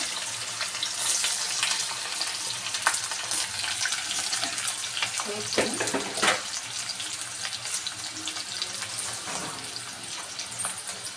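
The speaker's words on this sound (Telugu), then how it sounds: "ఇంకొంచెం ఫ్రై అవ్వాలి చూడండి ఆనియన్స్ వేగిపోయాయి" Onions frying in a pan, a dense continuous hiss and sizzle that stays loud and even, with a few brief scraping stirs mixed in.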